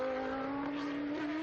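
A historic race car fitted with a Judd V10 engine runs at a steady, high-pitched drone at a classic racing event, heard from some distance and fairly faint, with no talk over it.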